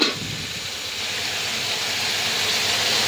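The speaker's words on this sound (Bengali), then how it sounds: "এখানে কুঁদরি ভাজা হচ্ছে।" Ivy gourd fries in a pan with onion, garlic and dried chili, giving a steady, close sizzling hiss that holds evenly for a few seconds with no talking.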